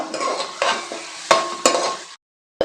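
Onions frying in hot oil for a Nellore-style fish curry give a loud close sizzle, broken by a few scraping stirs against the pan, then the sound cuts out briefly before a final short burst.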